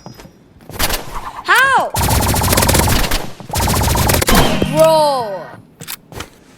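Energy pistol fire in the video game Rivals: bursts of rapid, loud shots with whooshing sweeps, interrupted by short pauses, while a player's voice speaks briefly over the action.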